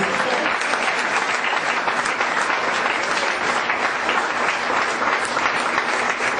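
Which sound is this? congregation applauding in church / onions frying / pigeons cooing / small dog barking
congregation applauding in church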